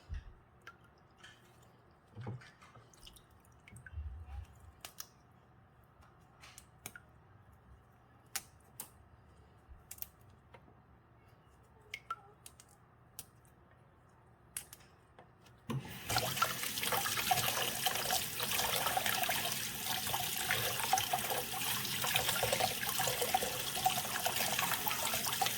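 Bare-root hydroponic strawberry plants rinsed under running water, a steady loud splashing rush that starts abruptly after a stretch of quiet, faint handling clicks.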